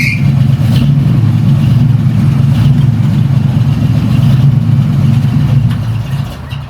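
A small-block Chevy V8 fed by a Holley electric fuel pump idles rich, giving a loud, steady, rumbling drone with a slight lope that holds all the way through.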